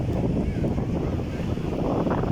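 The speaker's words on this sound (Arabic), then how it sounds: "شويه هوا حلوين جدا بصراحه." Wind on an Alexandria beach at night buffets the microphone in a constant low roar, with the sea faintly beneath it.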